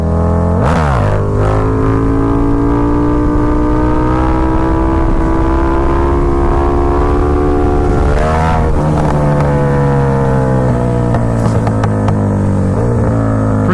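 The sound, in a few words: motorcycle revving for a third-gear clutch-up wheelie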